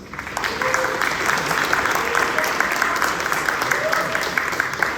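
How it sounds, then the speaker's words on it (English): An audience applauds the UX Club at a tech organization fair intro meeting, a steady wash of many hands clapping, moderately loud and sustained throughout, with faint voices mixed into the crowd noise. "we'll introduce the UX Club, so give them a big round of applause"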